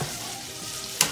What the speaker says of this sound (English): you want to let your shrimp get nice and brown on each side